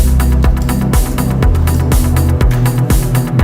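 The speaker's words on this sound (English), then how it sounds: "And mostly this legendary pad, for me at least, is the Anjuna pad." Lush Anjuna-style pad from the Sylenth synth in a chill melodic house track, sustained chords swelling loud and steady with a pumping, sidechained pulse roughly every half second, no voices.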